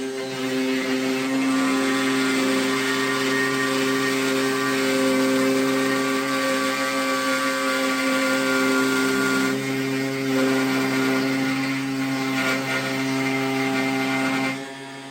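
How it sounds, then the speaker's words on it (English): A DEWALT DW618PKB router plunge-cutting, giving a loud, steady high-pitched whine with strong tonal harmonics that holds for about fifteen seconds, then drops off briefly near the end. "Victor's first ever plunge cut with a router."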